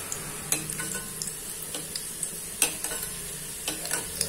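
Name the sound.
karanji pastries frying in ghee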